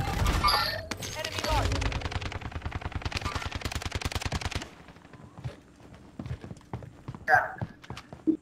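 Rapid automatic gunfire in a video game, a fast, steady burst of shots lasting several seconds, followed by quieter scattered clicks and game sounds.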